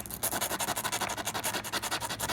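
Sandpaper is rubbed hard against a Tofaş car part in quick, even back-and-forth strokes, close and rasping, about a dozen strokes per second with no pauses.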